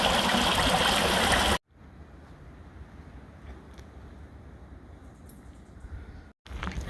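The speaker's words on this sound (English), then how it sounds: "The spring that's about to save my life today." A mountain spring on the Appalachian Trail flows and trickles. A loud, close rush of water suddenly drops to a softer, steady babble, then swells again near the end.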